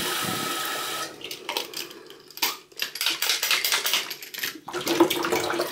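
Water sloshes and knocks inside a half-filled lidded drinking bottle being shaken to rinse it, in irregular close bursts of splashing that start after a quiet second and continue with brief gaps.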